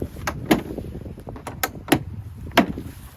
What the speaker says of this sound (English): Shut your door, shut your tailgate.